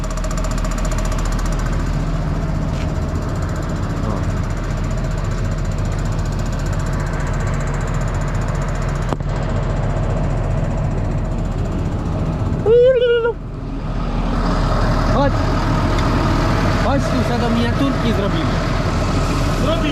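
A Fendt tractor engine runs steadily at a low, rumbling idle close by, with a brief squealing whine partway through and louder revving afterward; people talk intermittently over it.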